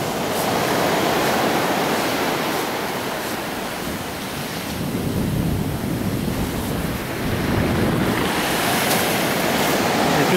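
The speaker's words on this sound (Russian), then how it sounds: "Да. Красивый пляж." Ocean surf on the black sand beach at Puerto Naos, La Palma: a steady, broad wash of breaking waves with swells that rise and fall, mixed with wind buffeting the microphone, loud and continuous.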